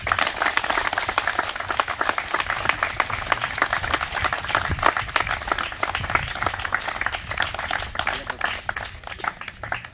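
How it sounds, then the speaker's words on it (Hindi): A group at a physical training academy claps together in fast, continuous rhythmic applause, close and lively, sustained for the full stretch with slight variations in intensity. "चलो अब ताली मारो।"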